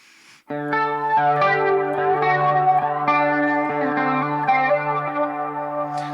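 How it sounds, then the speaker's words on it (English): Sustained electric guitar chords through a BOSS GT-1000 Core ring out with a wide, washy reverb and shimmering effects, changing every second or so, playing a song intro. "So we bring out the reverb more."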